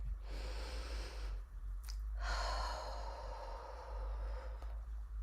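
A slow, deep breath drawn in and let out during a guided mindfulness gathering, soft and close with a brief pause between the inhale and the long exhale.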